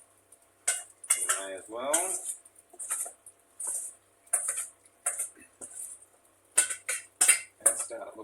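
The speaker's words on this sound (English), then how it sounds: "So just give this a bit of a stir around." Egg and bacon salad stirred in a bowl, giving a string of scraping, clinking utensil-on-bowl strokes in short bursts over about eight seconds, close and moderately loud, with a brief spoken phrase.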